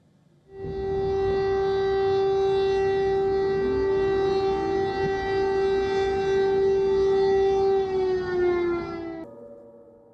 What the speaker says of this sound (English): Explosions were heard across Kyiv as air raid sirens sounded.